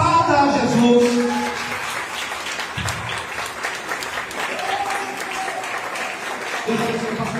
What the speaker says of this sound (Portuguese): Receba isso, aplauda a Jesus.